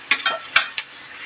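Ginger and spices fry in hot oil in a pan for bread pakoda filling, with four quick scraping stirs of a spoon against the pan over a soft sizzle.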